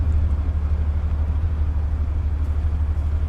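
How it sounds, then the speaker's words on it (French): An old truck's engine idles in the Big Ambition video game, giving a steady, deep, low rumble that holds unchanged throughout with no other sounds. "Moi j'arrive avec mon vieux camtar."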